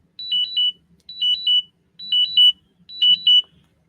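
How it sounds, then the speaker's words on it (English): An electronic alarm goes off loud and close, four identical bursts of rapid high beeps repeating at about one-second intervals with silence between them. "Sorry, my alarms are going off."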